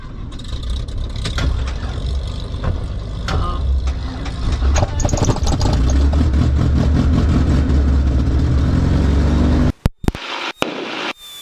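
A light aircraft piston engine cranks and catches, building into a loud, close, throbbing roar that runs steadily for several seconds before cutting into a few sharp bursts and pauses.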